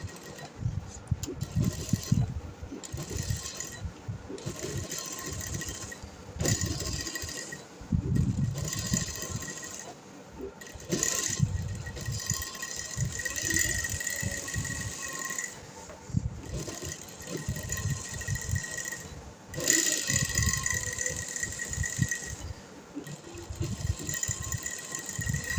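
A sewing machine stitches over an embroidered fabric patch while a sleeve is attached to a kameez or kurti, with steady mechanical whirring in runs that stop and start repeatedly.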